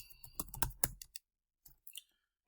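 A computer keyboard is typed on in a short, close burst of quick clicks, then a brief pause and a few more faint taps, with no talking.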